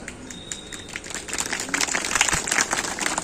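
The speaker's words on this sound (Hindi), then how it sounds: "देख लो ये तालियां" An audience clapping at a yoga camp session, scattered claps that build into fuller, denser applause over a few seconds, fairly close.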